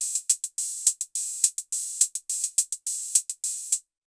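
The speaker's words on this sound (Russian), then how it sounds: "И послушаем открытый и закрытый хай-хэт." Behringer RD-6 analog drum machine playing bright, hissy hi-hats in a quick steady pattern, short closed ticks alternating with longer open sizzles, crisp and close.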